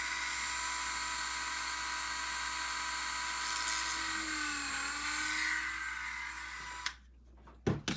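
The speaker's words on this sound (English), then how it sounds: "I'm just using a Dremel here." Dremel rotary tool cutting a plastic part from an AMT 1:537 USS Reliant model kit, a steady high-pitched whine that dips slightly under load as it bites, then spins down and stops, followed by a few small clicks.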